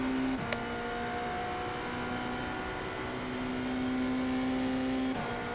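A GTP-class race car in iRacing holds a steady, droning engine note with a sustained tone throughout, shifting pitch briefly near the start and again near the end, with no talk over it.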